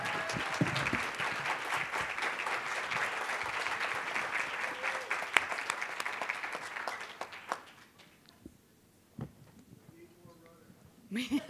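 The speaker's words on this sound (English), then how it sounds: "applaud for Olivia" An audience stands and applauds for Olivia, a swimmer, with full steady clapping for about seven seconds that then trails off into scattered claps and a quiet room before talk resumes.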